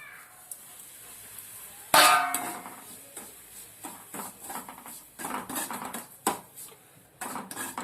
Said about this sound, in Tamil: இப்போ ரவையை போட்டு நல்லா வறுத்துக்கலாம்